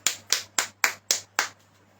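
Six sharp, evenly spaced claps in a church service, a single pair of hands or a tight group clapping in quick rhythm, close and crisp against a faint steady hum, with no talk.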